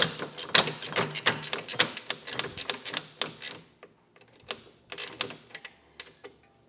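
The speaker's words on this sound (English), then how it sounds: "We're also going to loosen this back one." A bolt on a frame-mounted motorcycle highway peg mount loosened with a ratchet wrench, giving rapid close clicking bursts that pause and resume in shorter runs, no talking.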